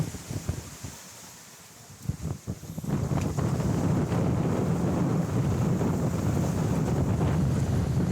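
Wind rushing over a sailboat at sea under full mainsail and genoa, gusty buffeting at first, then a loud, steady roar of wind and water from about three seconds on.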